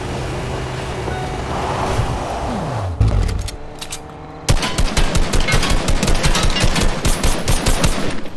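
Rapid bursts of automatic gunfire in Fortnite crackle loud and close over a car engine's drone, a dense barrage rattling out after a brief lull.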